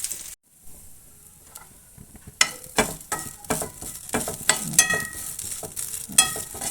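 Grated coconut roasting in a pan for sambar, giving a dry sizzle with repeated scraping and stirring clatter that starts after a short quiet gap and continues irregularly; nobody speaks.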